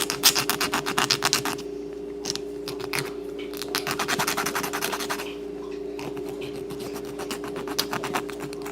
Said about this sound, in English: So I'll take a fingernail file.